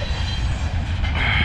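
Train rolling over a bridge, loud close rumble of wheels on rails with a steady metallic drone and a brief squeal near the end, no talking.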